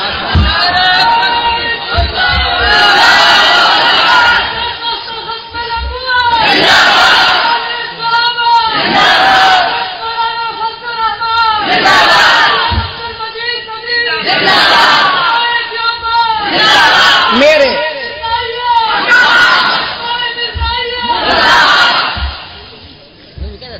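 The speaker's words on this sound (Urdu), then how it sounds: "اچھا کچھ دوستوں کو نعرے کے ذریعے تقریر کا شوق ہوتا ہے" Crowd at a religious speech gathering chanting slogans in loud, repeated call-and-response bursts, rising and falling in regular waves throughout, with a voice leading between the chants.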